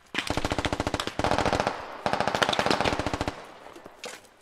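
Rapid automatic gunfire from a squad-based military video game, fired in two loud, close bursts of evenly spaced shots with a short gap between them and a few scattered shots at the end.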